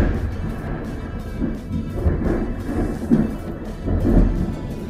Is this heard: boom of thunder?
yes